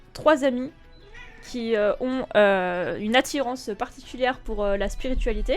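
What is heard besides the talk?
cat meowing and chewing on microphone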